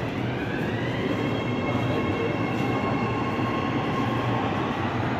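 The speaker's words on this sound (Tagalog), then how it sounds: "Ayan, paalis na yung train sa kabila." A Riyadh Metro train pulls away on the opposite track, a steady rumbling roll with faint squealing wheel tones held evenly throughout, with no talking.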